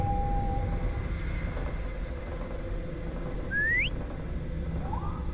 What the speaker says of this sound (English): Oh, he's whistling back, man.